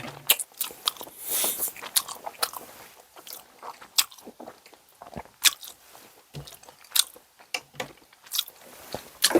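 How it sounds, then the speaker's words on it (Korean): Close-up eating of dumplings, with soft bites, squishy chewing and occasional crunchy snaps in an irregular rhythm, loud and near the mic with no talking. "만두, 요 2개 붙은 거 하나 더 먹겠습니다."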